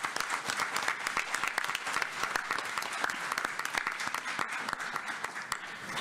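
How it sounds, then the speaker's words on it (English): Sustained applause from an audience at a school district board meeting honoring a student athlete, dense overlapping claps steady and fairly loud for the whole stretch with no talk. "Let's give her a big round of applause."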